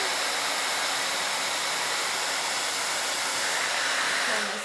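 A Harry Josh blowdryer running steadily at full power while drying hair, a loud continuous rushing roar that holds constant before easing slightly at the end.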